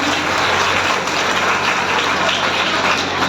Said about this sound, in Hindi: तो एक बार अपने लिए एक जोरदार ताली बजाइए